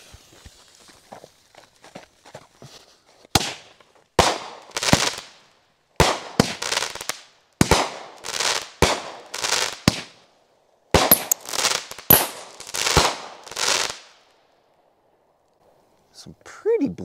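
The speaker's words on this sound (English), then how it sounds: "7-shot Dominator cake." A 7-shot Dominator 200 gram firework cake fires outdoors: about seven loud sharp launch thumps, each followed by crackling bursts, spaced roughly a second or two apart, with faint ambient noise before and after.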